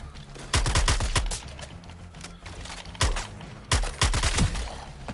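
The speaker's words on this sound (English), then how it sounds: "Firing in midair while you're on your jetpack." Rapid bursts of gunfire come from a character firing in midair on a jetpack in Suicide Squad: Kill the Justice League, several separate volleys of quick shots with short pauses in between.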